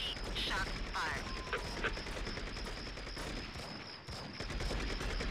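Dense video-game gunfire rattles through a busy city street scene, overlapping bursts and single shots layered over traffic and crowd noise at steady high loudness, with voices mixed in.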